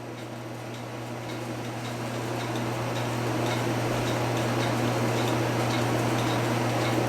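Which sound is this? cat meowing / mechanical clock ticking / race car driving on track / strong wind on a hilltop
mechanical clock ticking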